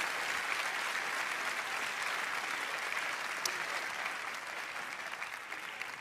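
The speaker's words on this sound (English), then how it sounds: "When I pause, it's because they're clapping" Sustained audience applause at a business forum, dense and steady clapping filling the whole stretch without a break, loud and close, with no speech over it.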